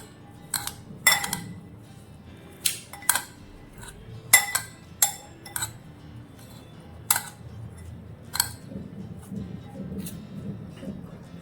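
Chaat masala being mixed in a bowl, with a dozen sharp metallic clinks and taps of a spoon against the bowl at an irregular pace over a low, steady room hum.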